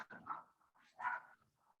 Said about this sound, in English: So she's barking again now.